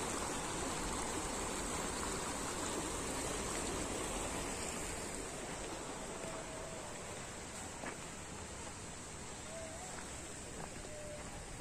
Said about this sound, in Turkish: Şu sol taraftaki su da Aygır Şelalesi'nden geliyor.